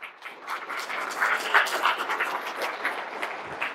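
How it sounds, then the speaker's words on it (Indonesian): An audience at a business seminar applauds, a steady, dense clapping that swells slightly in the middle and carries on evenly throughout. "Beri aplaus yang meriah"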